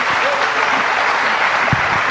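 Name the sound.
audience applause welcoming a speaker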